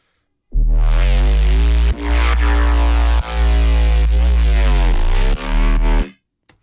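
A full electronic track plays back in Ableton, led by a loud, distorted, live-feeling synth bass in sustained phrases broken by short gaps, dense and driving, with no talking.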